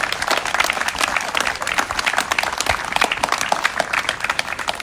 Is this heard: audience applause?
yes